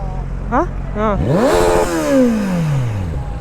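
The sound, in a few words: sports motorcycle engine revving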